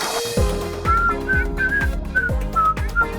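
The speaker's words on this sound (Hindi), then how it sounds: "लड़कियों को सीटी नहीं बजाना चाहिए।" A girl whistles in a scene from a Hindi-dubbed South Indian romantic film. Short, clear whistled notes come in bursts over a steady thumping beat of background music.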